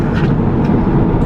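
Mini Cooper S JCW with its 211 hp engine and sport exhaust flap open gives a steady, loud, deep exhaust drone heard close, with no talk over it.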